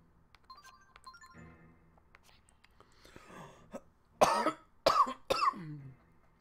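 Three sharp, harsh coughs in quick succession, loud and close, after a stretch of quieter background sounds.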